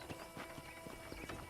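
Hooves of a horse in the Red Dead Redemption video game clip-clop in a steady rhythm, with several soft, evenly spaced beats over a low ambient game background.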